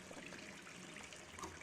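Sink faucet left running in the game Gone Home, a steady, soft hiss of water trickling into a basin, continuous and fairly quiet throughout with no talk.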